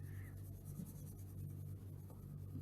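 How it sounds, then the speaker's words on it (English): Soft 6B pencil shading slanted diagonal strokes on paper, faint close scratching with a steady low hum underneath. "we basically need to draw diagonal strokes"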